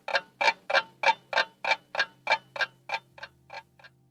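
A clock ticks steadily, a dozen or so crisp, evenly spaced ticks about three per second, close and clear with no talk, fading slightly toward the end.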